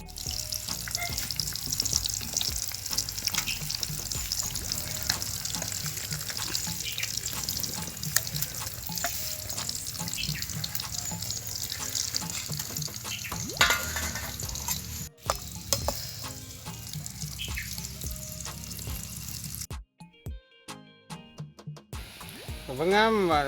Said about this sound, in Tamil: இப்போ வந்து வெங்காயத்தை பொரிச்சு எடுக்கணும் முதல்ல.